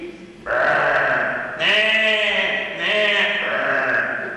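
A person mimics a sheep, giving three wavering, nasal bleats in succession, loud and close.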